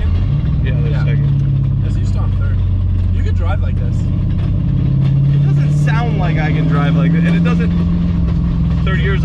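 Engine of a modified, drift-built car shifting into third gear with a worn transmission mount, a loud steady drone that climbs in pitch through the gear change. Voices talk over the engine throughout.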